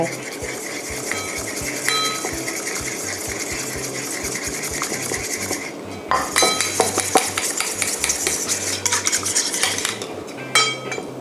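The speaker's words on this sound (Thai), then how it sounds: "จากนั้นนะคะก็เอาน้ำเปล่าเนี่ยแหละค่ะผสมลงไป" A spoon or whisk stirs a flour batter mixed with plain water for fried tofu, making a steady run of scraping clicks against the bowl that grows busier and louder partway through, with no talking.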